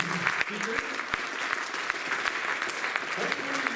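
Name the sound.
audience applause for the main speakers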